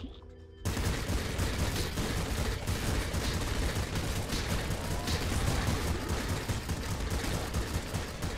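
Dense, continuous volleys of shotgun fire from the video game Nuclear Throne (Ultra Mod), starting after a short quiet lead-in and then pounding without a break for the remaining seconds, loud and crowded with rapid overlapping blasts.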